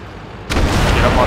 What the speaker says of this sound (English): Artillery set and ready. Well, shoot.